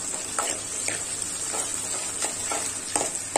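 Spices tempering in hot oil for a Tamil dal vada kuzhambu, a steady close hiss of frying with a few soft stirring scrapes spaced through it, no talking.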